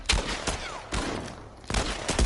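Gunfire in The Last of Us video game, several sharp loud shots in quick irregular succession, close and punchy, with no talk over them.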